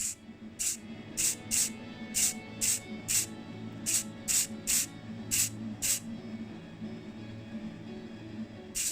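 A Matchbox 1973 SAAB Sonnett III model car is spray painted in about a dozen short, sharp aerosol bursts, close and loud, over a steady low background hum.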